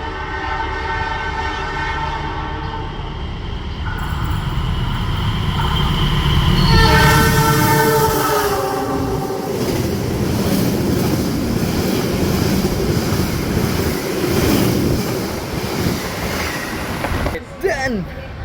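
The Taksaka express train in Indonesia rushes past with a loud roar and rattling wheels, a horn sounding partway through, with some voices underneath.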